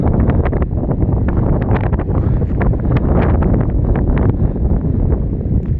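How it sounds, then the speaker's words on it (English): Strong gusts of wind buffet the microphone continuously, a loud, rough low-frequency rumble with flutter and crackle that never lets up. "Strong gust of wind coming in."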